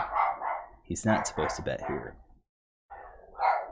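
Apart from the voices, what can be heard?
dog barking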